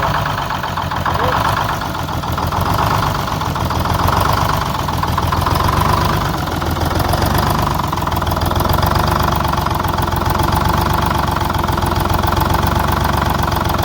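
An old Texas Silversides bus engine runs after its first start in six years with a loud, steady, close idle and a fast, rough knocking pulse that continues evenly from start to finish.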